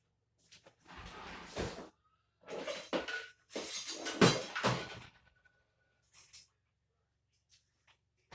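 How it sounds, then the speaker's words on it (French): A whisk beating a chocolate dessert mixture in a bowl, several short bursts of brisk clattering strokes separated by pauses, close and fairly loud, trailing off into faint taps. "Donc là, on va fouetter ce mélange"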